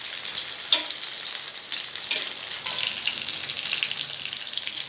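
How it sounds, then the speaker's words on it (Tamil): Fish fries gently in oil over a low flame, a steady close-up sizzle and crackle running throughout with a couple of sharper pops as hot oil is spooned over it. "இதை நம்ம சிம்லேயே வச்சு நல்லா ஃப்ரை பண்ணி எடுத்துக்கலாம்."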